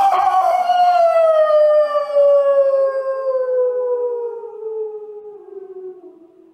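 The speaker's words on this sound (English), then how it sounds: "The wolves swung in behind, yelping in chorus, and Buck ran with them, side by side, the wild brother howling as he ran." Wolves howling: one long, loud howl slides slowly downward in pitch and fades over several seconds, with no other sounds around it.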